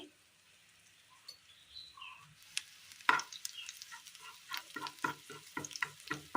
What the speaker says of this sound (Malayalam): പൊടികളെല്ലാം നന്നായി ഒന്ന് മൂപ്പിച്ചെടുക്കാം